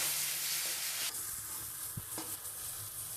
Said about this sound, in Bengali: এবার এটাকে আরেকবার আমি নাড়বো